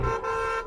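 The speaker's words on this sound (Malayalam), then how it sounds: "കാർ വരുന്നുണ്ട് കാർ വരുന്നുണ്ട്" An approaching car on a Kerala road gives a single short, moderately loud horn toot.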